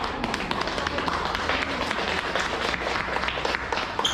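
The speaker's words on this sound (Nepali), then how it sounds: "एकपल्ट ताली बजाएर धन्यवाद अर्पण गरौँ" A crowd at a senior citizens' day honoring ceremony claps together in a steady, even round of applause, close and lively throughout with faint voices mixed in.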